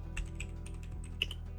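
Someone types a plugin search on a computer keyboard, a steady patter of light key clicks up close with one sharper tap near the end, over a low hum.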